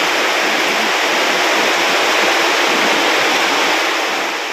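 Loud, steady roar of a big swollen river rushing past a farm during sudden flooding, continuous broadband water noise with no pauses.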